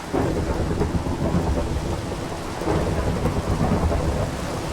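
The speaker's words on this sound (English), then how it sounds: "Oh boy, so much hail." Loud, steady hail storm with thunder in Minecraft: a dense, unbroken roar of pelting ice and rain, with low rumbling swells beneath it throughout.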